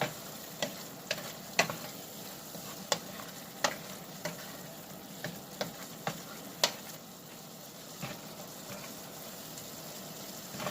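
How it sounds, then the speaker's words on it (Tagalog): Bagoong alamang shrimp paste sizzles faintly in a pan while being stirred, with a low hiss broken by about a dozen sharp spoon taps and scrapes at irregular intervals. "Haluin lang natin ang haluin."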